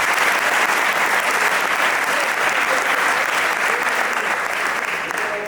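An audience at a Surat gurukul gathering applauds teachers, strong sustained clapping from many hands filling the room, fading slightly at the end.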